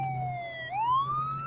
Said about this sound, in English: We've got a police car coming up behind us.